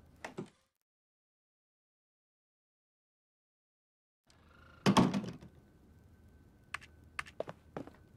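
A door opening in the game else Heart.Break(), a brief knock at the start, then a thunk with a short rattle after a long silence, followed by light tapping clicks.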